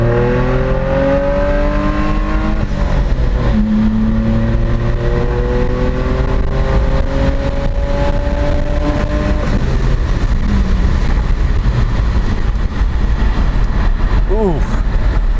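Saab 9-3 Turbo X engine pulling hard after a downshift into second, a loud rising drone that climbs in pitch, drops briefly at the shift and climbs again, with a steady low rumble from inside the car.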